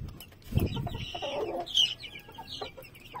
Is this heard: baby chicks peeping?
yes